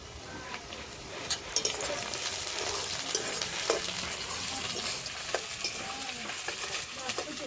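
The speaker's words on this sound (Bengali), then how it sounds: "পেঁয়াজগুলো লাল লাল করে ভেজে নিয়েছি" Onions frying in a pan for a spicy country chicken curry, with a steady crackling sizzle and a few clattering knocks of stirring throughout.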